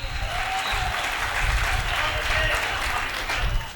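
Audience at a Hindi comedy poetry gathering (hasya kavi sammelan) bursts into sustained, dense applause, loud and steady throughout with cheering voices mixed in.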